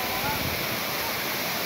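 Çağlayan waterfall in Erzincan pours in a continuous broadband roar that fills the scene at close range, with a person talking over the rushing water.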